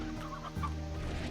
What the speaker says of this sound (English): we'll collect some chickens along